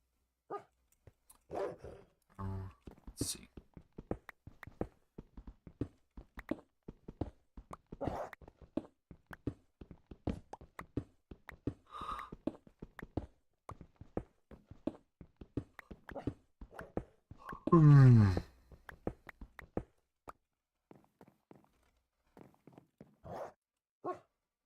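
A puppy barks and yaps in short, sharp bursts scattered irregularly throughout, fairly close, with one longer louder whine-like outburst midway and quiet gaps between.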